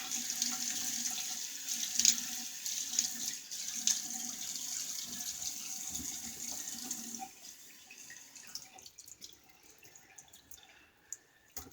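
Tap water runs steadily into a sink for about seven seconds as a face is wetted before a shave, then drops to quieter trickles and scattered drips; no one speaks.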